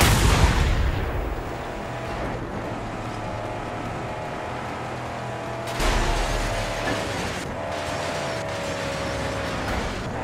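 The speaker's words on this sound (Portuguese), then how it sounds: "Vamos explodir, né? Por que não? E o último tiro" Two loud gunshot-like blasts from the video game Mad Max ring out several seconds apart during a convoy attack, each trailing into a droning mechanical hum and rattling, with no voices.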